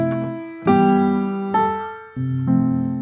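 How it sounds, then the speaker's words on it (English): An Oeser virtual piano instrument plays close and clear, four sustained chords struck one after another, each ringing and decaying before the next, with no talk. "It's not uncommon as a mix engineer for me to get piano sounds like this"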